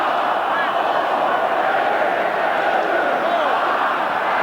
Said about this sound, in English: The crowd yelling the countdown.